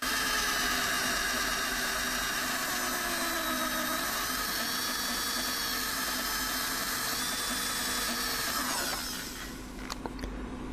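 Drill bit boring into hardened high-speed steel with a constant high-pitched whine that holds steady, then drops off and winds down near the end.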